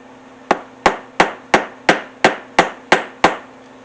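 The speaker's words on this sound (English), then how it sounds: "I'm going to go ahead and use the punch again." Nine evenly spaced, sharp hammer strikes on a punch driven through a leather strap for a tool holder, loud and close with a brief ring after each blow and no talking.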